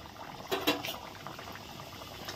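Mughlai paratha with potato filling frying in hot oil, giving a steady soft bubbling hiss throughout with a couple of brief louder crackling bursts early on, and no talk.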